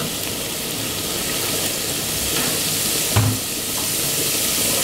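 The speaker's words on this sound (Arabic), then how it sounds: "ابتدي اشوح فيها، اول ما احس ان الثوم بدا يستوي" Garlic sautés in a pan with a steady, hissing sizzle that holds level throughout, broken by one brief utensil clatter partway through.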